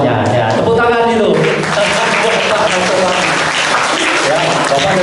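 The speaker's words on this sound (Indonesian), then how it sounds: "Tepuk tangan itu." Loud, sustained applause from an audience at a school general lecture, continuous clapping throughout with a voice briefly over it at the start.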